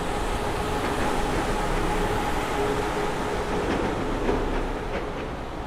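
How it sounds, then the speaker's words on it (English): A Miami Metromover train rolls past in Brickell, a steady rumble with faint rail clatter holding level throughout amid broad city ambience, no voices present. "You can see the Metro Mover coming by."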